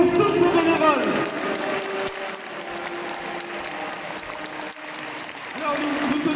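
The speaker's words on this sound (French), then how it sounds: "Nous vous demandons un tonnerre d'applaudissements pour tous ces bénévoles." Crowd applause for volunteers at a living nativity event in Provins, sustained clapping and some cheering under a voice that carries across the whole stretch, with the clapping swelling again near the end.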